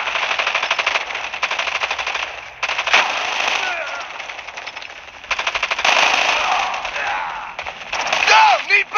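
Rapid automatic gunfire bursts from the mobile shooter Call of Duty Mobile, loud and near, rattling in dense volleys with brief gaps, a few sharper shots and ricochet-like whines near the end.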